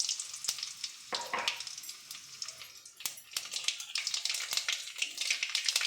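Spices dropped into two tablespoons of hot oil for drumstick sambar, a steady close sizzle with stirring and a few sharp crackles throughout.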